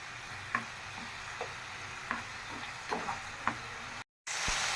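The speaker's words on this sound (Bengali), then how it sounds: "চিংড়ি মাছটাও দিয়ে দিতেছি মাংসের পাশাপাশি কারণ আলাদা আলাদা ভাজতে অনেক টাইম লাগবে যেহেতু এগুলা সব একসাথে রান্না করব তাই একসাথে ভাজতেছি" Shrimp and meat fry together in a hot pan, a steady close sizzle broken by several sharp scrapes and clinks of a spatula stirring, with a brief cut to silence before the frying hiss returns louder.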